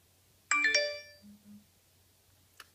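A Garmin Fenix 7X watch and a paired phone sound text-message notification alerts: a bright chiming tone, a short low double buzz, then a faint later ping, all in a quiet room.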